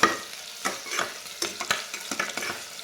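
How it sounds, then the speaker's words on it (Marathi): Onion frying with garlic in a pan for spiced khichdi, gentle sizzling under repeated spatula stirs and scrapes, close and moderately loud. "कांदा हलकासा भाजून घेऊयात"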